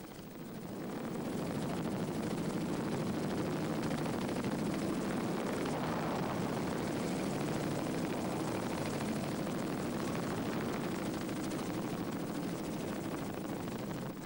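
A Swedish armed forces rescue helicopter hovers over the sea during the 1994 Estonia ferry disaster rescue, a loud, steady, close rotor and engine roar that fills the whole stretch with no voices.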